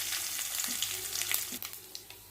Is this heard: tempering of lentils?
yes